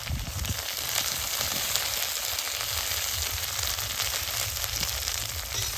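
Coriander leaf paste for a pickle being stirred and fried in a pan, giving a steady, close sizzle with faint scraping throughout and no voices.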